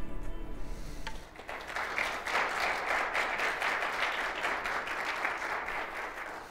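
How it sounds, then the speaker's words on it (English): A church congregation at a Sunday morning service bursts into applause after a brief lull, many hands clapping in a dense, sustained wash that carries on steadily to the end. "Let's hear those hands clapping together as Stan comes and shares with us this morning"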